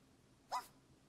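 One short, high-pitched yap from a small dog, quiet and somewhat distant, over a faint steady background hiss.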